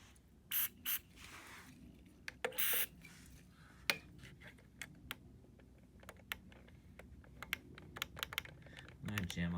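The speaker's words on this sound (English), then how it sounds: "I'm gonna jam on this button for a while." A drum machine button being pressed repeatedly to work in Deoxit contact cleaner produces a run of sharp plastic clicks at an uneven pace, with brief bursts of spray early on, fairly quiet and close.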